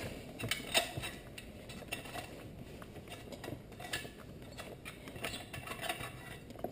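A 13 mm wrench loosening the oxygen sensor nut on an LS-swapped Ford Ranger turbo build, giving quiet, scattered metallic clicks and ratchet ticks up close with faint background noise.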